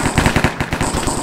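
Rapid assault rifle fire in Counter-Strike, a loud, tight burst of repeated shots in quick succession lasting just over a second, with no voices over it.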